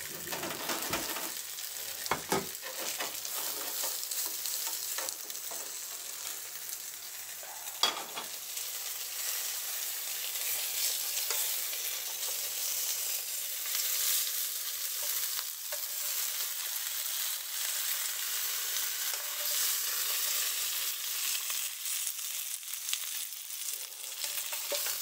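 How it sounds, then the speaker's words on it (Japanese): Ohsho gyoza dumplings fry in a pan with a steady, close sizzle and crackle, holding an even level throughout, with a few brief clatters near the start and no talking. "じゃあちょっとこのまま焼きます"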